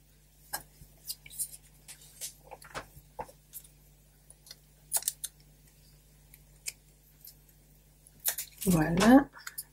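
Non-stick scissors snip paper for a handmade card in a series of small, quiet cuts and clicks spread across the moment, close by, with a voice briefly heard near the end.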